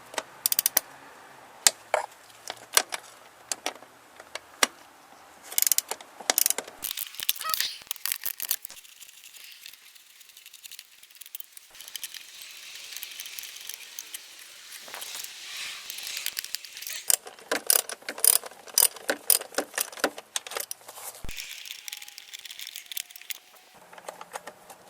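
A ratchet works loose bolts on the intake components of a BMW E36, making dense runs of quick, light clicks that come in bursts with short pauses between them.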